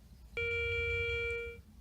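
A single steady electronic metal detector target tone, using an NEL Tornado coil, sounds abruptly, holds clearly for about a second, then cuts off, over faint background noise.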